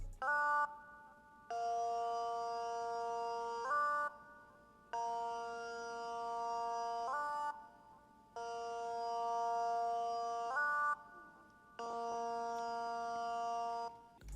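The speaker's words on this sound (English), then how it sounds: "And then the next thing I did was I added another lead from Serum." Serum synth lead from I Love Maury's Shock Sound Kit, a bright, bell-like layered tone playing repeated sustained phrases with gliding pitch steps, four rhythmic blocks separated by short gaps, clean and alone.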